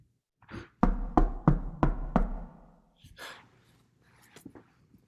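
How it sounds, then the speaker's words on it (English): A loud knock on a door in a children's story, five heavy evenly spaced thumps close by, followed by faint rustling and small noises in a quiet room. "he was awakened by a very loud knock"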